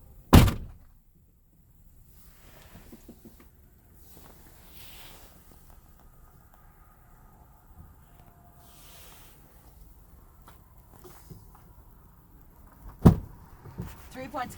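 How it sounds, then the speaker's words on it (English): A heavy truck cab door slams shut with a solid thunk, followed by quiet rustling and faint background hum, then another sharp slam near the end. "Shut my door behind me."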